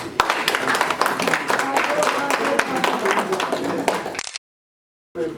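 Audience applause at a gathering in Nantes, dense clapping running for about four seconds before cutting to silence, then briefly resuming at the end.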